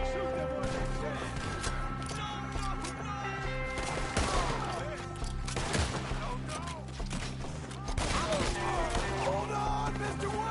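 Gunfire in the Red Dead Redemption 2 video game, a busy exchange of shots with sharp bursts rising over a dense soundtrack of music and shouting voices during a chase.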